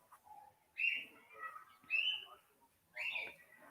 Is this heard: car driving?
no